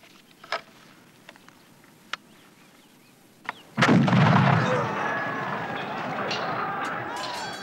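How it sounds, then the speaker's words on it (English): A black powder musket fires at a historical battle reenactment: a single sharp, loud blast follows a few faint clicks, then a long noisy tail of smoke and outdoor crowd ambience. "I'm now ready to fire."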